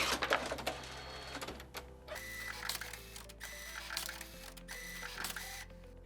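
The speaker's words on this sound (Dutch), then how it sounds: "Nu komen er een aantal witte testprintjes uit de printer." A DNP DS820 photo printer whirs and clicks through its feed cycle, motors shifting pitch in repeated steps as white test sheets move through, fairly quiet and close.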